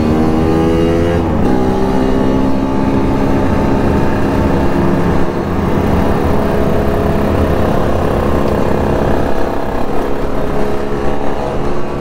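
A two-stroke Yamaha RX King motorcycle accelerates on a touring ride, engine loud and close with a steady buzzing drone and rising pitch as the throttle opens, no talking.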